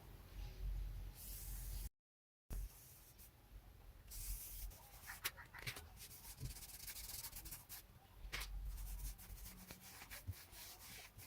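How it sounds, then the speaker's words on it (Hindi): A cloth pad dipped in polish rubs over wooden furniture, making soft, close, repeated swishing strokes with a hissing, sanding-like texture and no speech. "आपने देखा ये कितने आसानी से ये इतना हिस्सा हमने पॉलिश कर लिया है।"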